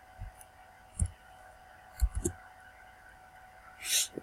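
A few sparse keyboard key clicks, spaced irregularly while a command is typed, end in a broader, brighter keystroke like a press of enter. The clicks are quiet and close, with a faint background hum.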